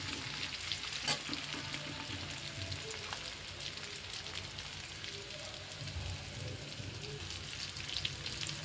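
Onion, garlic, ginger and garam masala fry in a pan with a steady, close sizzle and occasional spatula scrapes, carrying on evenly with no talk.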